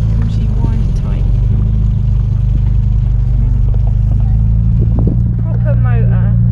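A classic MG Y type car engine idling nearby at an outdoor MG club show in a park, a steady low rumbling drone with people chatting over it.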